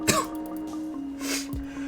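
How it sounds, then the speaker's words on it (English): One man coughs twice, a sharp cough at the start and a second one near the end, each close to the microphone and with no talk between them. "I'm not going to edit out these coughs."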